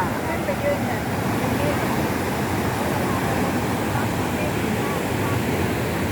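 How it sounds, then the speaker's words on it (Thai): Niagara Falls roars as a steady, dense rush of falling water, a constant broadband wash with some wind buffeting, continuous and unbroken throughout. "น้ำตกในอังการา"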